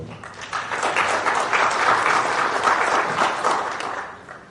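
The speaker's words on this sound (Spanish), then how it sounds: "Recibamos con fuertes votos de aplauso, por favor" An audience at a panel session applauds warmly, a full, continuous patter of many hands that swells, holds steady for several seconds and then tapers away.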